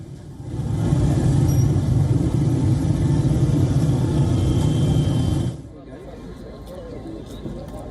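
Steady broadband rumble of cars and motorbikes moving together in a PTI political rally in Peshawar, loud and continuous for about five seconds before dropping to a quieter background hum.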